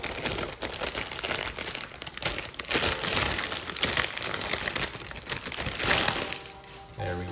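A plastic parts bag from a 1/100 MG Sinanju Gundam model kit crinkles and rustles loudly and continuously up close as it is cut open and handled.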